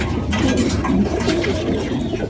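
Pigeons coo steadily and fairly loud throughout, a low rolling murmur from several birds kept in an outdoor loft.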